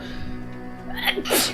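A person lets out a single sharp sneeze near the end, close and loud, after a short quiet stretch with faint background sound.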